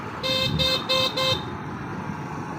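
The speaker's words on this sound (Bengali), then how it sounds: "এটা গঙ্গার ধার দিয়ে একটা রাস্তা, ওই রাস্তা দিয়ে আমরা যাচ্ছি।" Road traffic passes along a riverside road beside the Ganges, where a vehicle horn gives four quick toots in a row over the background rumble of traffic, which carries on faintly after the honking ends.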